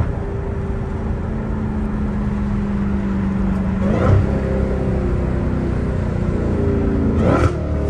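Dodge Challenger Hellcat Redeye engine revving loudly and steadily up close, with rising pitch and two sharp throttle blips late in the run, heard on its own.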